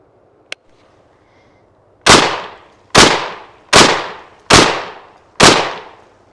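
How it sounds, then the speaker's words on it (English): A MAC 1014 shotgun firing Federal double-aught buckshot on an outdoor range: after a faint click, five loud, close blasts come in an even rhythm about a second apart, each with a fading echo tail. "next up is going to be 6 rounds of Federal double-aught buckshot"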